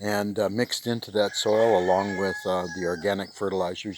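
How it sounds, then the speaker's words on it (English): A rooster crows in the background on an organic farm in the Philippines, a drawn-out call partly buried under someone talking close to the microphone. "You can hear a rooster in the background."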